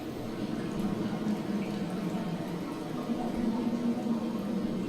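In an underground cavern from the game Dear Esther, a faint low drone of wind and trickling water hums continuously, murky and unsettling, with no voice.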